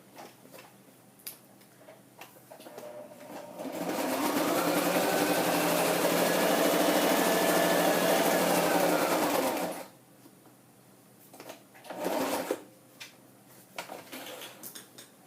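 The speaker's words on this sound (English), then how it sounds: "So I'm doing more stitching, and I'm having tension problems" A sewing machine stitches through a scrapbook layout in one steady, loud burst of about six seconds, with quieter handling noises before and after it and a few short whirs near the end.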